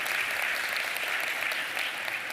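Delegates at the World Travel and Tourism Global Summit in the Philippines give a brief round of applause, dense, even clapping filling a large hall.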